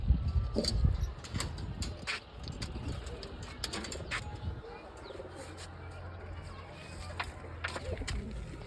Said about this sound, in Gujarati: આપણા કબૂતરનો ઘર ખુલે છે.